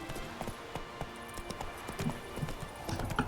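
Horse hooves clip-clopping at a steady trot in the video game The Witcher 3: Wild Hunt, soft and fairly faint, with a few sharper hoof strikes near the end.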